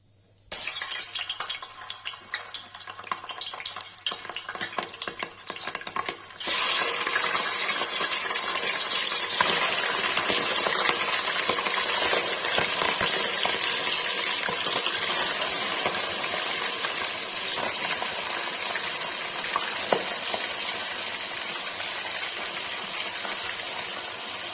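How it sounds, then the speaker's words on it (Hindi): Mutton pieces frying in hot oil in a pot for Kashmiri rogan josh, a steady loud hiss and gush that starts softer, then swells after a few seconds and holds continuously with faint clinks, no talking. "गाइस मटन फ्राई के लिए रख दिया है"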